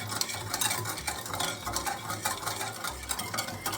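A spoon repeatedly stirs a sugar mixture for an eggless whole wheat rasmalai cake in a bowl, a close, rhythmic scraping and swishing with regular strokes.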